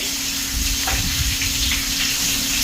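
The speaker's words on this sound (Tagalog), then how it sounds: "habang nagpiprito tayo" Pompano fish steak fries in hot oil, giving a continuous loud sizzle and crackle with a faint low hum beneath and scattered spits of oil.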